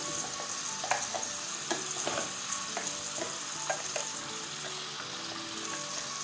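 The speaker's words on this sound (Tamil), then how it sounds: "மசாலாவை ஆட் பண்ணிவிட்டு ரொம்ப நேரம் எண்ணெயில் வதக்காமல் கொஞ்ச நேரத்துலேயே கலந்து விடுங்க" Mutton with ground masala sizzling and frying in hot oil in a pan, a steady loud crackle with occasional scraping stir strokes, close up and with no voices.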